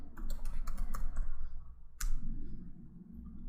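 Quick bursts of computer keyboard typing as a command is entered in a terminal, crisp close key clicks in a fast flurry, a short pause, then a sharp keystroke like Enter followed by a few lighter taps.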